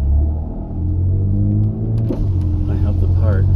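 Loud boat engine rumbling steadily up close, its exhaust strained after a shifted motor mount, a low droning roar that stays heavy throughout as a voice talks over it.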